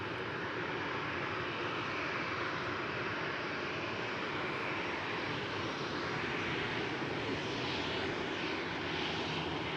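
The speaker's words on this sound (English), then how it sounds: "It seems that this a Boeing 737 is coming and will take off before the A330." A Boeing 737 airliner takes off at Amsterdam Schiphol, its engines producing a steady, broad jet roar heard from a moderate distance that holds without a break for about ten seconds.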